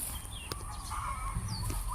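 Chickens clucking nearby in a rural Thai farmyard among young mango trees, with a few short, irregular clucks and calls over a quiet outdoor background.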